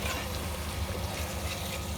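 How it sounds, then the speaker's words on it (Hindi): Ground spices for fish curry sizzle steadily in hot oil, a dense, even, close frying hiss with a light stirring texture and no talk. "और इसे तब तक भूनेंगे जब तक कि ऑयल अलग ना हो जाए और मसाला अच्छी तरह भून ना जाए।"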